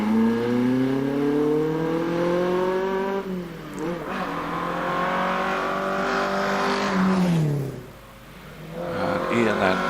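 A 2-litre Alfa Romeo Giulia Sprint GT races up the Prescott hillclimb, its engine revving hard through rising gear pulls with brief dips at shifts and a lift near the end, loud and close under a commentator's voice.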